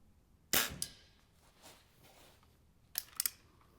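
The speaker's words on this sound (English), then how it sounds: "I'm going to take 10 shots at this 2-inch target at 35 yards." A vintage Britannia bullpup spring air rifle is fired from the prone position, giving a sharp, close snap followed by a quieter click, then a second burst of crisp mechanical clicks a couple of seconds later.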